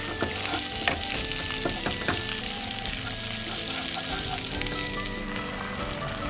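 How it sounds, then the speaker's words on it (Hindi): Capsicum for banana chilly frying slowly in a pan over low heat, a steady soft sizzle with occasional scraping clicks as it is stirred, close and continuous with no talk. "खाली धीरे धीरे चलाते रहना है।"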